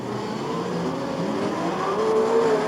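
Super sedan race cars at Archerfield Speedway roll away on a start lap down the back straight. A blend of engine drones rises gradually in pitch and loudness as the pack accelerates.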